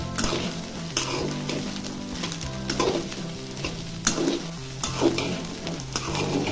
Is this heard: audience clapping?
no